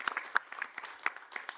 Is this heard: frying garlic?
no